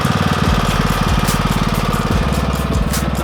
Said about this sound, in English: but in the afternoon after a long day, I'd just rather use the lawn tractor, and Micah enjoys riding.